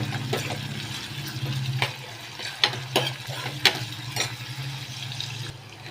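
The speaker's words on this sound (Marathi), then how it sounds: "टोमॅटो जरा शिजून घेऊया आपण।" Tomatoes cook with fried onion in a pan, a steady low sizzle broken by several sharp, close scraping and clacking strokes of a spoon stirring.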